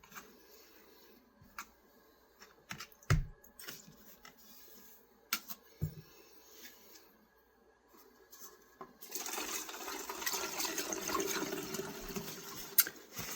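Water runs over a rusty vintage knife as it is rinsed after a rust-removal soak. Scattered clicks and handling knocks come first, then a steady close hiss of flowing water fills the final few seconds.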